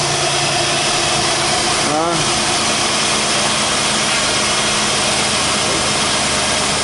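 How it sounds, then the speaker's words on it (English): A 2005 Jeep Grand Cherokee with the 3.7L engine idles smoothly after its IAC valve was cleaned, giving a close, loud, steady hum with one brief disturbance early on. "it's running real smooth now"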